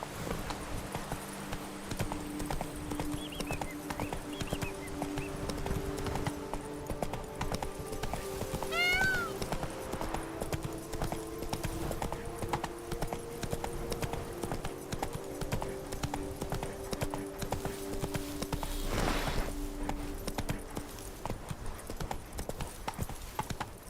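The horse Roach galloping in The Witcher 3, a rapid, continuous clip-clop of hooves with a brief whinny partway through, over soft background music.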